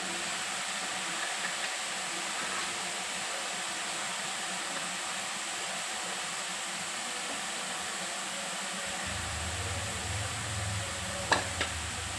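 Boondi batter dropped into hot oil for boondi laddu, giving a steady, close sizzling hiss with a low bubbling rumble that thickens near the end and a brief clink of a utensil.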